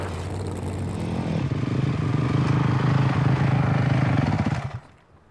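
A motocross motorcycle rides past with a rough, buzzing engine note that builds, holds strong and fairly close for a few seconds, then fades quickly into near silence.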